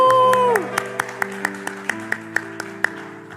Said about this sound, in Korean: 우리 환호로 한번 축복해 주실래요?